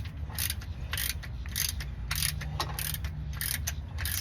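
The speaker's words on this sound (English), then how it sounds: "It's a 2 half-inch nuts, deep socket." A hand ratchet with a deep socket loosening half-inch nuts on a Jeep transmission, giving repeated bursts of rapid clicking in a steady rhythm, close and fairly quiet, with no talk.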